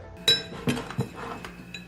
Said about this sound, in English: Wash the glass, dry it